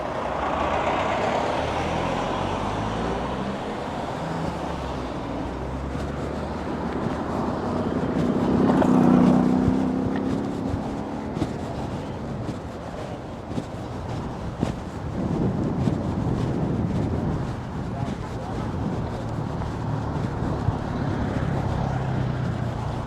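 Outdoor ambience near Havana's international airport in Cuba in March 2025: a continuous low rumble of engines and traffic that swells loudly around the middle, then settles into a steady broad roar.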